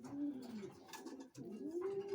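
Racing pigeons in a loft cooing in repeated throaty rolls, close and moderately loud, with a brief pause between phrases amid scuffling birds.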